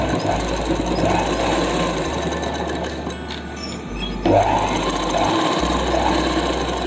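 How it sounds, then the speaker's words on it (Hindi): A sewing machine runs loud and steady, stitching the elastic down the center of palazzo pants. Its fast mechanical whirring continues with only a brief change in motor tone midway. "अब इसके अंदर सेंटर में सिलाई लगानी है"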